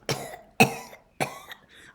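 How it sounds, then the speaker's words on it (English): A voice acts out insects coughing and spluttering, giving three sharp, close coughs with a smaller throaty splutter at the end. "said the insects, coughing and spluttering"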